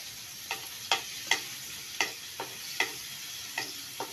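Garlic cooks in melted butter in a pan, a steady soft sizzle broken by about nine sharp scraping stirs of a utensil against the pan at a fairly even rhythm.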